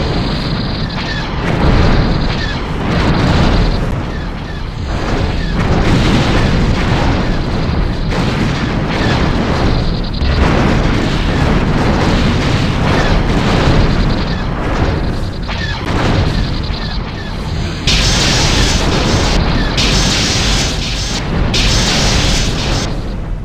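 Loud, continuous space-battle combat from a Star Trek game pitting a refit Constitution Class starship against TIE X1s and TIE Defenders, with rolling booms and torpedo explosions packed densely throughout and a brighter burst near the end.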